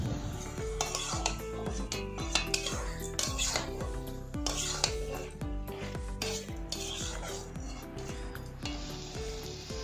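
Raw onion and chicken being stirred in a pot, with a spoon scraping the bottom in a steady, repeated rhythm over a soft, constant sizzle, close and clear without talk.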